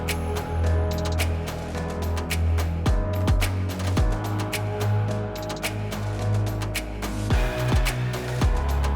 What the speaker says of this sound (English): And I added a bass line.